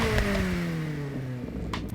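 Volkswagen Golf Rallye fitted with sport exhaust in Forza Horizon 6, engine revving loud and up close with a steady downward sweep in pitch as it winds down, a couple of sharp clicks near the end.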